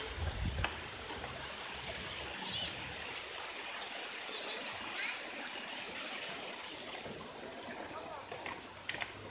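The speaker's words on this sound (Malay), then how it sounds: "Tuh, air terjunnya." A waterfall near a swimming pool pours in a steady broadband rush, constant and moderately close, with people talking briefly over it.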